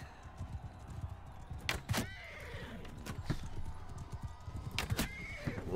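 Horse hooves clip-clop in a steady rhythm with sharp whinnies breaking in around the middle and near the end, from a mounted tournament in the video game Mount and Blade II: Bannerlord, with game ambience underneath.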